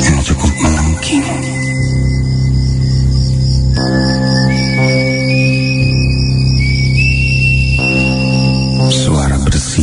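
A woman's high, shrill whistle from outside a boarding-house room carries long sustained notes over a steady low hum, with a couple of sliding pitch changes; no one speaks.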